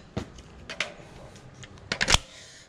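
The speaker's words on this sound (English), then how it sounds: "I'm gonna drop the magazine out." A CZ Scorpion pistol with its bolt locked back has the magazine dropped out, giving a few sharp metallic clicks and clacks close by, grouped at the start and near the end.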